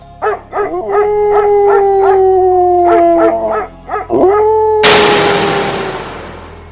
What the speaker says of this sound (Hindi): कुछ कुत्तों के भौंकने की आवाज उन्हें सुनाई पड़ी